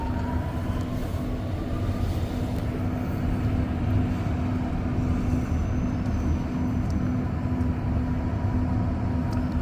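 REM light metro train approaching Gare Centrale in Montreal on a shared single track, a loud steady rumble of wheels and motors with a faint rising whine, continuous and close, no voices.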